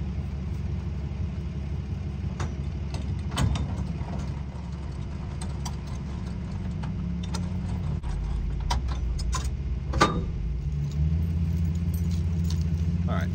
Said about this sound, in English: I keep a handful of keys on my keychain, obviously.